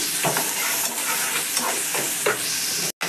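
Onions fry on low heat for a tadka of moong and masoor dal, giving a loud, steady sizzle broken by repeated spoon scrapes against the pan until a sudden cutoff near the end.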